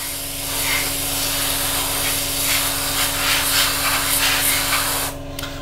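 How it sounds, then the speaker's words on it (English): Steady airbrush hiss of dark grey primer being sprayed onto a Revell 1/48 Typhoon FGR4 plastic model kit, continuous and close over a low compressor hum, cutting off abruptly near the end. "we're priming up now, using quite a dark grey"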